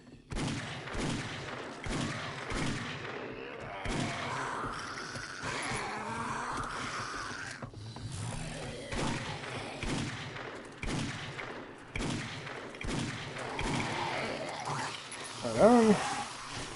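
Gunfire from a gun in 7 Days to Die, a steady series of sharp shots at roughly regular intervals over a long stretch, mixed with game noise and a voice talking between shots.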